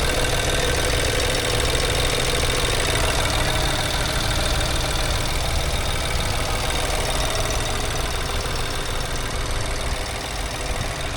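The turbocharged 1.3-liter gas engine of a 2025 Chevy Trailblazer RS runs at a steady idle, a close, continuous mechanical hum and clatter with no voices.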